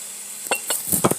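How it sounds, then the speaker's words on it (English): Ginger, onion and garlic frying in a pan, with a soft background hiss and a few quick clinks and stirring knocks of a utensil against the pan, close and brief. "so we are frying the ginger, onion and garlic"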